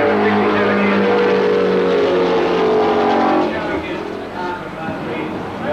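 A vintage Brabham racing car roars loudly past a grandstand at the 1978 Australian Grand Prix, a strained engine note that fades away after a few seconds. A commentator talks over it.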